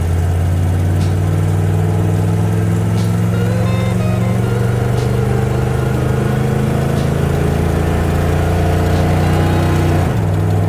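Square body truck engine in first gear, a loud, deep, steady drone with low rumble held for about ten seconds, pitch dropping briefly near the end.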